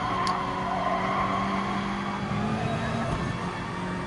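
A GR4 race car engine accelerates hard around the Autopolis circuit in Gran Turismo, a loud, steady, close engine drone with sustained harmonic tones and no talking over it.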